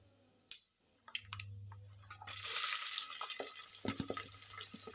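Sliced onions hit hot oil in a pan for upma, giving a sudden loud sizzle after a few soft clinks, then a steady crackling fry that settles down, with no talking.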